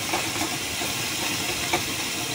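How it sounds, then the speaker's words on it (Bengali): Onions frying in oil with cardamom and cinnamon give a steady, close sizzling hiss that runs unbroken, with no voices over it. "আমি এই যে এলাচ আর দারচিনিটাও এই পেঁয়াজ ভাজার সঙ্গে দিয়ে দিলাম।"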